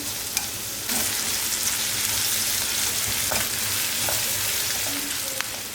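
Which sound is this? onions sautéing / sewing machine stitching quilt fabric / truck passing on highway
onions sautéing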